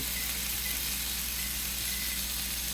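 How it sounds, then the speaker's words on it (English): Butter sizzling and crackling in a skillet, a steady close hiss with light irregular pops. "And now the butter is frying on the inside."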